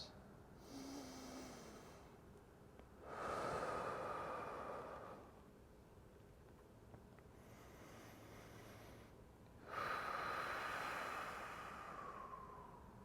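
Two deep, slow breaths during a Kinstretch mobility stretching session, each a long, airy rush that swells and fades, spaced a few seconds apart over quiet room tone.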